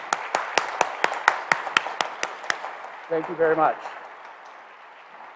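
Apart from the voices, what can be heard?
audience applause at debate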